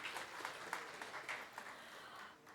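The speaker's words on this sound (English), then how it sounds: "Please welcome him with huge round of applause." A crowd applauds steadily, a dense patter of many hands clapping at moderate volume without any voices.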